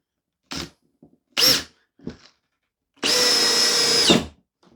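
Makita cordless combi drill, heard as a few short bursts of whirring followed by one longer, steady high-pitched run that winds down. The whole thing is close and loud against quiet gaps.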